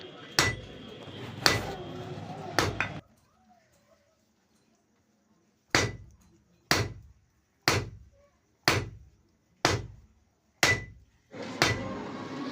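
A smith forges a nail-pulling crowbar, striking metal with a 3 kg hammer: three sharp, ringing blows, a silent pause, then seven more evenly spaced heavy strikes, each decaying quickly, close and loud.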